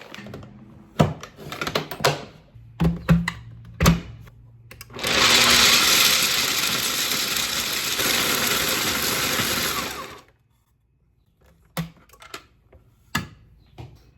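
Raw almonds, kept frozen, are ground into a mix of fine and coarse meal in a loud electric grain mill or blender, a steady whirring roar lasting about five seconds, framed by scattered clicks and knocks before and after.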